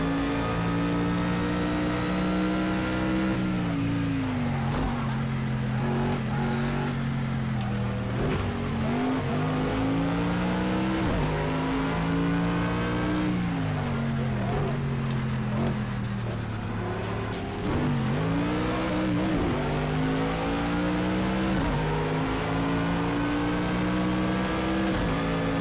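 Loud Bentley GT3 and AMG Mercedes race car engines drone steadily in the Project Cars 2 racing game, with repeated dips and rises as gears shift through corners and faint tire squeal, and no voices.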